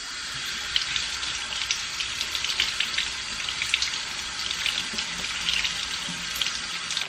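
A kitchen tap runs steadily into a sink to rinse food, a continuous hissing splash close by, with faint clinks of water striking the contents.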